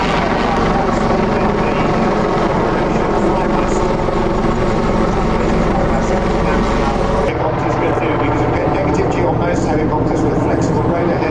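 A helicopter at the Shuttleworth airshow gives off a loud, continuous engine and rotor drone, with someone talking over it throughout.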